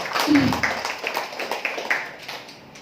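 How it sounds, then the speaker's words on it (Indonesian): Applause from an audience of men and women at a company marketing presentation, a scattering of moderate claps that swells briefly and then thins out and fades. "tepuk tangan buat PTBS sekali lagi"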